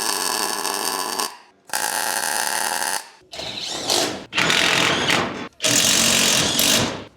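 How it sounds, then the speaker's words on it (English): Tack welds are laid on Allen head screw heads while building a Nissan GQ Patrol 4WD ute. Loud crackling, buzzing welding bursts come in several separate runs of one to two seconds, each broken by brief silence. "I'm gonna put tack welds on the head so I can just put this down and put nuts on from the bottom."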